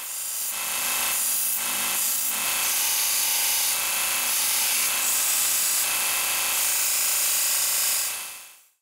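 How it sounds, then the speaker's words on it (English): A belt grinder notches a steel headlight bracket for a C6 Corvette drift build, producing a continuous loud abrasive whine and rasp that holds for about eight seconds before spinning down, with no talking. "I was using the belt grinder to basically put a notch in it"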